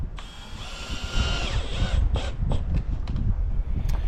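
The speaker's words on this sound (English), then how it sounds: "I use 4 2-inch exterior rated core screws to attach this plastic box, PVC box." A power drill drives 2-inch exterior-rated screws into a plastic PVC box mounted outdoors, a loud, close whirring that rises and stops in several short bursts.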